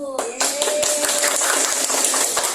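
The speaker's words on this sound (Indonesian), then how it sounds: "Tepuk tangan untuk kelompok 1" A class group claps steadily in a classroom, a busy wash of hand claps with a few sharper taps, close and fairly loud.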